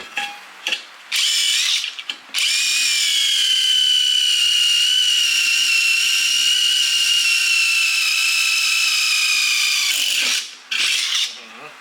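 A Tigron cordless impact driver fitted with a drill bit bores steadily into hardwood, a loud sustained high whine lasting several seconds, preceded and followed by short bursts of the tool starting and stopping.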